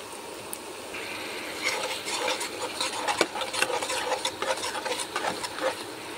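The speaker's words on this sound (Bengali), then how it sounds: "আমি এবারে সব মশলা একে একে অ্যাড করে দিয়ে এটাকে ভুনাই নেব সুন্দরভাবে।" Onions and spices stir-fried in a pan for fish curry, a soft sizzle that swells into busy, rattling scrapes of a spoon against the pan, close and steady without talk.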